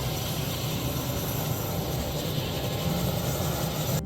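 Steady, broadband engine roar inside an airplane flying over Svalbard, droning evenly throughout with no voices.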